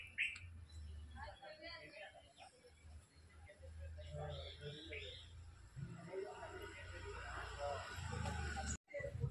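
Birds chirping outdoors in a natural setting near temples at Vagholi, Nalasopara: scattered faint tweets and calls over a low background rumble, with distant voices and ambient noise throughout.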